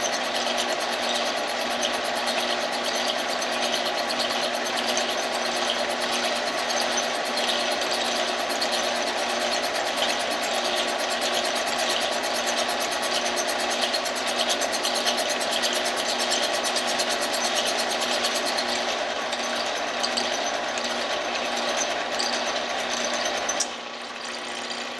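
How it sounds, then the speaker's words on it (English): Boring bar machining an engine cylinder sized for Sportsman cylinders, a steady mechanical whir and hum with constant tonal drone held for a long stretch, then cutting off abruptly as the automatic travel disengages. "This tool, this boring bar has been adjusted for Sportsman cylinders, so I've got a stop set on it that automatically disengages it"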